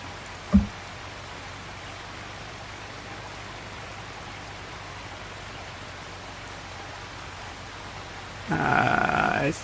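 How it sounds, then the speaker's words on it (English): Steady rain from Farming Simulator 25 hisses evenly as a constant wash throughout, with a brief thump near the start and a louder tonal game sound rising at the end. "When's the rain supposed to stop?"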